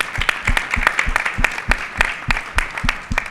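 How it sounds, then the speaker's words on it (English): An audience applauds a panel at an event about Central America and the Caribbean, giving a short burst of steady, close clapping with a regular beat and a faint crowd murmur. "I just want to give a big applause to everybody in the panel."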